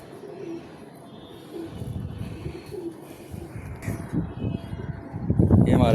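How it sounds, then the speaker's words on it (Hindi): Pigeon cooing in a loft, a hen bird handled up close, with soft repeated low coos under broadband rustling and handling noise that grows louder toward the end; no talking. "ये हमारा एक कबूतर है"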